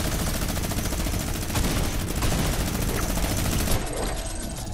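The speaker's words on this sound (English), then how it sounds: "Stop shooting me!" Video game gunfire rattles on without pause, a dense and loud barrage of rapid shots filling the whole stretch with no clear gaps.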